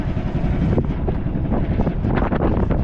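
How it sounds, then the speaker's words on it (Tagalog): Strong wind buffets the microphone in loud, roaring gusts, with brief rustling bursts and no voices. "Grabe, napakalakas ng hangin."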